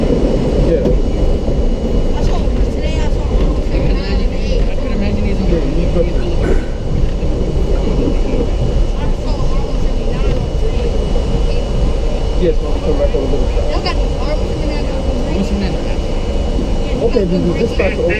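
An R32 subway express train bound for 145th Street runs loudly, a continuous dense rumble and roar of motor and wheels with rattling, a voice faintly present beneath the noise.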